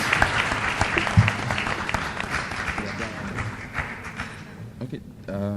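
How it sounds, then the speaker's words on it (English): Auditorium audience at an annual lecture applauds contestants called forward, a dense steady round of clapping with some voices underneath, fading near the end as a speaker resumes. "A round of applause for them, please."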